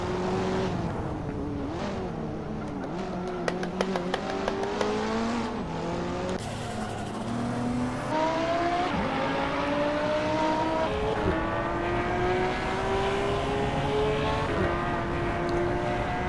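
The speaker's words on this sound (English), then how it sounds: "a mass of vehicles here." Toy-style cars race in the Hot Wheels Unleashed video game, engines droning and revving continuously with rising pitch shifts as they upshift, plus brief clicking bursts, steady and fairly loud throughout.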